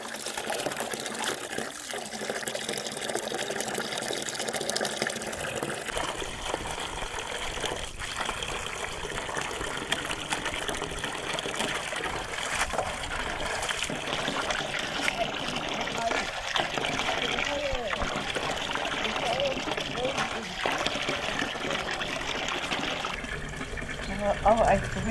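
Water flows continuously as a steady, rushing stream of broadband noise, heard throughout with voices talking over it.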